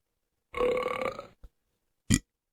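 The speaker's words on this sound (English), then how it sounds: "I still say my belches sound better than the ones on here." A man's loud, drawn-out belch lasts nearly a second up close, followed by a tiny grunt and then a second short, sharp burp, with silence between them.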